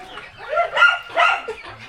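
Chickens on a farm house property cluck in short bursts up close, a few rising calls overlapping in a busy little flurry before easing off.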